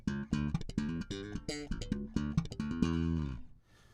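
Slapped and popped notes on an Ormsby Bass GTR 6 six-string bass recorded dry through a DI, percussive thumps and bright snaps in a quick funky phrase, ending on a sustained ringing note.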